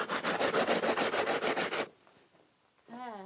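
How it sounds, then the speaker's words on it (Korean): Rapid, rhythmic scraping of a coarse steel wire pad cleaning ash from traditional Mapuche food in Chile, about a dozen harsh strokes in quick succession, then it stops and quiet follows. "철사포로 지금 막 계속 작업을 하시고"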